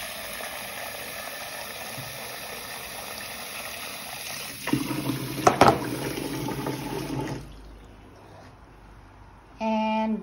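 Water is poured into a pot for kimchi stew, a steady splashing stream running for several seconds at moderate volume before stopping, followed by a brief clatter.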